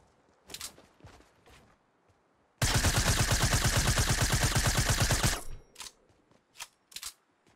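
Silenced SMG fired in Fortnite as one sustained automatic burst of rapid, evenly spaced shots lasting nearly three seconds, loud and close, with scattered clicks and footsteps before and after.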